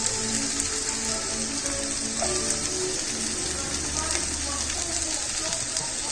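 Onions sizzle and fry in hot oil right after mustard seeds have popped, while a South Indian masoor dhal tadka is being made, a steady dense crackle that stays close and loud throughout.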